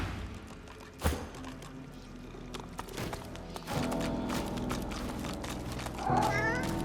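An undead cat in Divinity: Original Sin 2 meows several times amid game ambience and scattered footsteps, with a drawn-out cry near the end and some talking over it.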